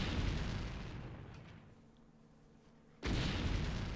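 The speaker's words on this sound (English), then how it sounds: "Cannon has been destroyed." An ion cannon is destroyed in StarCraft: Brood War, heard as a loud, booming, noisy explosion that fades over about two seconds before a second abrupt burst of rumbling blast noise hits.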